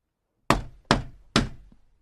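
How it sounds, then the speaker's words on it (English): Three firm knocks on a shop's wooden door, evenly spaced about half a second apart, close and distinct, each with a short ringing decay and no one talking. "Finally, he knocked on the shop door."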